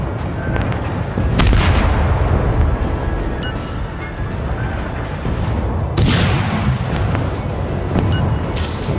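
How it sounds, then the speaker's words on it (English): Warship naval guns boom in the video game World of Warships, heavy artillery blasts landing at about 1.5 and 6 seconds over a continuous rumbling battle background, with some smaller shots scattered between them. "Oh, they're firing back."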